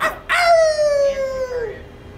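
A dog gives a single drawn-out howling whine that slides slowly downward in pitch, close and fairly loud, following a brief yip at the start.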